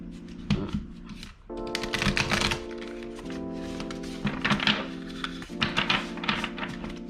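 Moonology Manifestations oracle cards being shuffled by hand, repeated close riffling and flicking bursts with soft taps between them, over a faint background hum.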